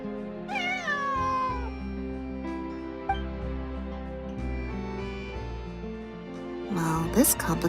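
A cat in the Genshin Impact game meows several times in long, whiny calls, with a louder strained caterwaul near the end over steady background music.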